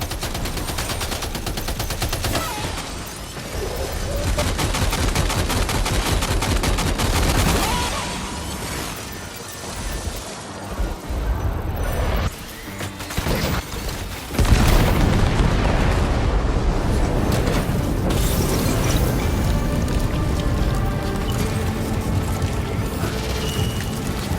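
Weapons firing in the video game Death Stranding 2: a dense, loud, continuous barrage of rapid gunfire and booming blasts that runs almost without a break, dips briefly midway and then surges again, with no talking.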